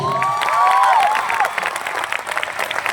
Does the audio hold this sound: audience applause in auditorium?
yes